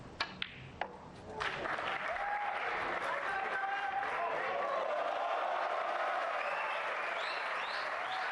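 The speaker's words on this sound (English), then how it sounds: "Crowd loving it." A snooker crowd at the Saudi Arabia Masters final breaks into sustained applause after a few isolated claps, the clapping swelling and holding steady as a dense, continuous wash for several seconds.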